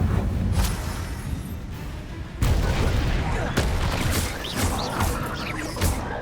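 The Confringo blasting spell fires in Hogwarts Legacy, with loud explosive bursts and crashing impacts over dense, sustained game-battle noise.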